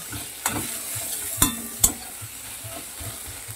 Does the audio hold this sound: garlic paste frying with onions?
yes